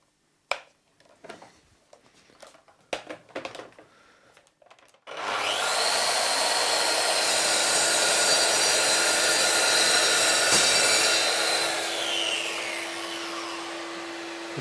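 A Mafell MT55 plunge saw spins up after some faint handling clicks and rips a loud, steady second full-depth cut through the workpiece for about nine seconds, its whine easing slightly near the end.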